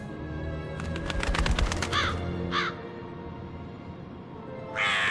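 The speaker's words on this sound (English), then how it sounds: "Get away, bird." A crow in a murder-mystery video game caws in a quick burst of harsh calls, followed by a couple of isolated caws and a final louder cry, clear and close.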